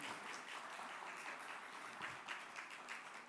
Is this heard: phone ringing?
no